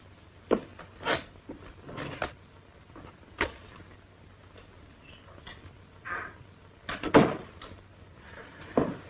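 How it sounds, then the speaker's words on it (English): A door is opened, giving a series of wooden knocks, clicks and thumps at irregular intervals over a low hum, with no speech. "leave the door partly open"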